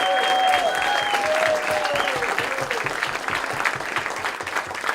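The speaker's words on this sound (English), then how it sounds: "So give Lou a round of applause." Sustained applause from a get-out-the-vote rally crowd for an Ohio governor candidate, a continuous wash of clapping with a few whistles and cheers riding on top early on.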